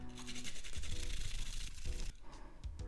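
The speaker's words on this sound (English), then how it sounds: "I'm gonna grate this using a grater." Garlic cloves grated by hand on a kitchen grater for a Korean bibimbap marinade, giving close, steady rasping scrapes in quick repeated strokes with no voices.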